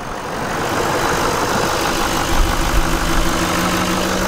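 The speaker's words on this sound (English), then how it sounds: "So that's the engine. And you can hear it. It's running nice and clean." A 2016 Chevrolet Silverado 2500HD pickup with a 6.6 liter turbo diesel engine idles steadily, a broad, even rumble heard up close with a continuous low drone and no talking.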